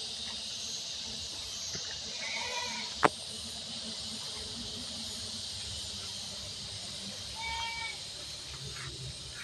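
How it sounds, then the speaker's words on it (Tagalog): Goats bleat intermittently at a farm where the animals are feeding, two short calls around the middle and near the end, faint and set against steady hiss with a sharp click between them. "Kambing doon."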